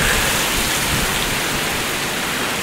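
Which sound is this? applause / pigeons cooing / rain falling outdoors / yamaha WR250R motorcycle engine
rain falling outdoors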